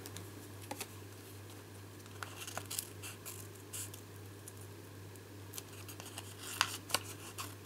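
Scissors snipping card stock at a card-making table, a scattered series of small crisp cuts and snips, fairly close and quiet against a steady low electrical hum.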